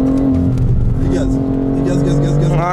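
A BMW on a race track accelerates hard, its engine drone steady and loud up close, with pitch rising toward the end as it revs higher while a coach talks over it.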